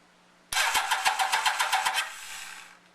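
A Kawasaki KZ1100 motorcycle engine is cranked by its starter, giving a loud rhythmic chugging and sputtering that runs about a second and a half without catching, then winds down.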